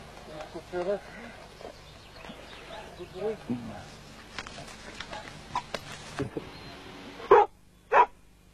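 Young dogs bark and yelp in a kennel. Short barks come through now and then, with two louder, closer barks near the end, while someone talks over most of it.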